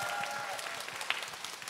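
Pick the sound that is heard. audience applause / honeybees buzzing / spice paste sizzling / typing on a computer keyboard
audience applause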